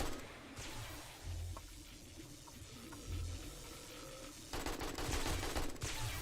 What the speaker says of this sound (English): I say get him with the AK.